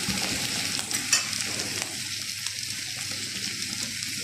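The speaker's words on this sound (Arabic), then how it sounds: "هي المفروض ان هي بتتشوح من فوق ومن تحت" Potatoes sautéing in a hot pan while being stirred and tossed, a steady close sizzle with scraping stir strokes and a sharper clatter near the start, no talking.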